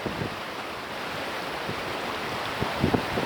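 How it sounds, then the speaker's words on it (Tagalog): A strong flooded river current during Typhoon Goring roars throughout, steady rushing water with a few louder splashes near the end. "Yung agos ng tubig. Malakas pala, no."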